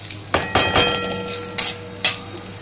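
Spice tempering (phoron) in hot oil for a bottle gourd and prawn dish, a soft sizzle under several loud metallic clanks and knocks of a utensil against the pan, spaced irregularly and close by.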